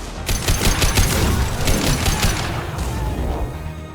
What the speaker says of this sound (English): Heads up! Firing concussive shot!